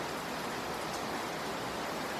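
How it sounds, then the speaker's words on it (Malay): Steady rain falls in a dense, even hiss that holds constant from start to finish, with no voices heard. "Hujan lah pula."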